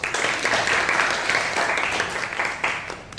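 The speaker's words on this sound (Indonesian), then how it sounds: "Tepuk tangan dulu." Classroom applause, a steady wash of many hands clapping at once, fairly loud and dense, fading slightly before a brief surge near the end.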